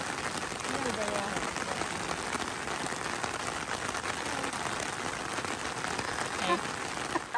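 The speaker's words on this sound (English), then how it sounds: "It has started to rain a little bit." Light rain patters steadily on an umbrella during an outdoor backpacking trip, a dense, even crackle of drops close overhead, with faint voices briefly underneath.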